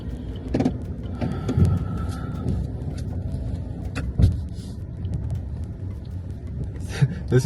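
A car driving on a road during a Western Australia road trip, heard from inside as a steady low engine and tyre rumble with a few louder thumps and bumps, no talking.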